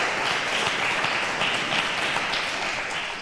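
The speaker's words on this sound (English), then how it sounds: "Round of applause, guys" Studio audience applauding on a quiz show, a steady, dense wash of clapping that runs the whole time at even loudness.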